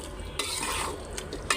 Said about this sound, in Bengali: এটা এখন সুন্দর করে কষাবো।